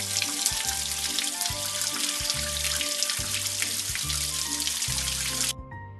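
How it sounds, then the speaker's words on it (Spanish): Water runs over a puppy's paws in a PAW Patrol video game, a steady hissing splash with bouncy game music beneath it, stopping abruptly near the end. "Vamos a enjuagar las patas del cachorro debajo del agua para mojar."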